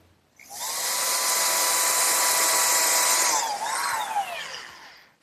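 A router mounted under a router table cuts the male part of a dovetail joint in pine, spinning up to a loud, steady whine. It holds for about three seconds, then dips and bends as the cut finishes and trails off.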